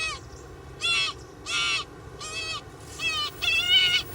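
A channel-billed cuckoo gives a series of five loud, harsh, raucous squawks at uneven intervals, each about half a second long, rising and growing more strained toward the end.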